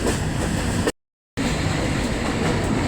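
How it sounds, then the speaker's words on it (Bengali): A passenger train travelling from Sylhet railway station toward Dhaka rumbles steadily with wheels on track, loud and close, broken by a sudden brief dropout of silence. "ঠিক 12টার সময় আমাদের ট্রেন সিলেট রেল স্টেশন থেকে যাত্রা শুরু করলো।"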